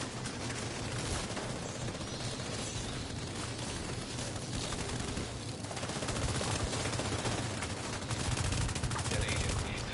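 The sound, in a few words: mortar fire in video game The Division 2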